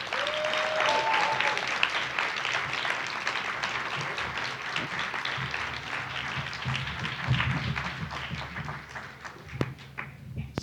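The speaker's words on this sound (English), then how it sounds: "I just wanna give a round of applause again for our speakers." An audience at an afternoon session of an academic lecture series gives a sustained round of applause for its speakers, dense clapping filling the room with a few louder individual claps near the end.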